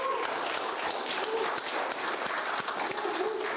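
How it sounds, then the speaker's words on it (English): Steady applause from an audience at a community association's presidential debate event in Houston, filling the room evenly and continuously at moderate volume with no break. "Can we give them a round of applause?"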